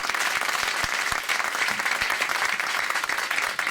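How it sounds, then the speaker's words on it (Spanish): A lecture hall audience applauds at the close of a history conference talk, a steady, dense clapping from many hands, sustained and fairly loud without pause. "merece la pena cerrar este acto con un aplauso de agradecimiento al profesor Medvera"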